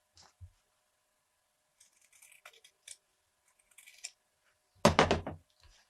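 Scissors snip through Ankara fabric in a few short, soft cuts, close and isolated in a quiet room, with one louder crisp snip near the end.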